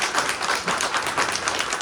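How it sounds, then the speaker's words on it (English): An audience gives a round of applause for a group of contributing authors at a brunch event, a dense, steady wash of many hands clapping throughout with no pauses. "I just want to give a round of applause to my contributing authors"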